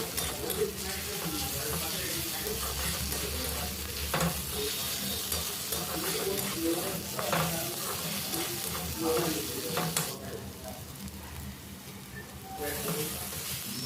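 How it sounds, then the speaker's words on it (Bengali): Ginger garlic paste frying with onion in a pan, a continuous close sizzle broken by frequent stirring scrapes and clatters, with a brief watery splash near the end. "আমি আদা রসুন বাটা দিয়ে দিচ্ছি আদা রসুনটা পেঁয়াজের সঙ্গে হালকা ভেজে নেব"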